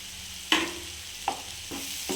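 Capsicum and potato palya frying with chilli powder and garam masala, a steady soft sizzle with a few distinct stirring scrapes at irregular intervals, fairly quiet and close.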